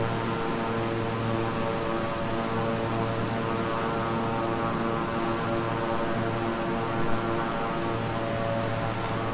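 A King Air 350i twin-engine propeller plane in Microsoft Flight Simulator drones steadily with a loud, even engine hum and whirring propeller tones that hold constant throughout, with no voices.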